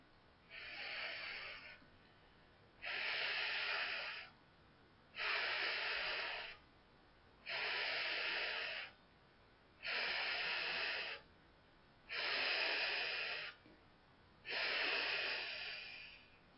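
Slow, steady breaths exhaled seven times during a guided elemental meditation, each a soft airy rush lasting about a second and a half, evenly spaced by quiet pauses.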